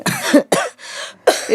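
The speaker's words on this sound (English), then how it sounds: "If I can take your cough, give it to me." A few harsh, close coughs come in quick separate bursts with short gaps between them, loud and clear with no talking.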